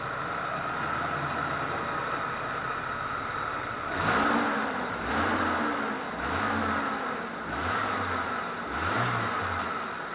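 A Ford Ranger pickup engine that has sat unused idles roughly, a steady mid-pitched drone with uneven surges roughly every second in the second half, heard up close with no talking.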